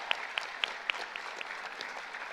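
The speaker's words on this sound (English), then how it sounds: "so give them a round of applause." An audience at the National Civics Bee Colorado State Finals applauds the judges, a soft, fairly distant patter of clapping with a few sharper individual claps standing out.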